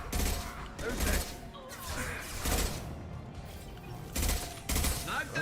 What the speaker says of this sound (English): I love how powerful his sniper rifle is. It's a one-shot, one-kill weapon.